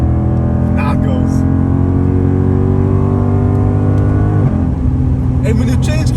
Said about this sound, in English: And when you change gear, it does this boom.